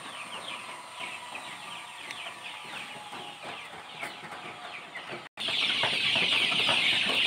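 KUB chickens cluck continuously on a farm, a busy mix of hens calling near and far, with the sound growing louder and denser toward the end.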